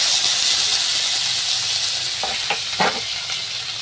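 Cauliflower with a little turmeric crackles and sizzles steadily in hot oil in a pan, with a few brief scraping stirs near the end.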